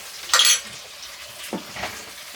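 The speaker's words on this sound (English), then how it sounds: "Our water already is pouring in." Water splashes briefly into a cooking pot in a kitchen while making Thai fish curry, a short bright pour followed by a couple of softer sloshes and faint clinks.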